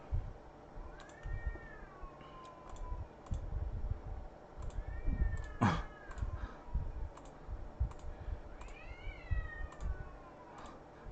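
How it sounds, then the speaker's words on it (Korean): A cat meows repeatedly outdoors, several drawn-out rising and falling wails at moderate distance, mixed with scattered clicks and taps nearby. "밖에 고양이 소리 들렸나요?"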